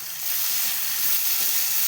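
Elephant foot yam frying in a pan as a chena roast, with a steady broad sizzle and faint stirring scrapes, close and continuous with no talking.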